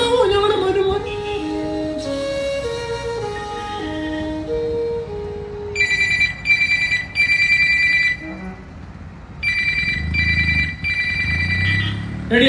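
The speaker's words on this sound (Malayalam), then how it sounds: "ആ ഫോണൊന്നും എടുത്തേ" A telephone bell rings in repeated bright bursts with short pauses between them, first over a soft musical background and then alone.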